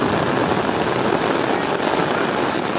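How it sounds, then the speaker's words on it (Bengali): Heavy rain pours down steadily near the Gomti river in Cumilla, a dense, unbroken roar of drops with no pauses. "খুব বেশি বৃষ্টি হচ্ছে"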